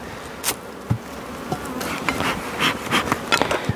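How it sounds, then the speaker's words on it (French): Honeybees buzz steadily around an open hive during a spring inspection, a dense continuous drone with sharper passes as individual bees fly close, plus a few faint knocks of handling the frames. "On va quand même les faire redescendre parce qu'elles sont un peu vivaces quand même."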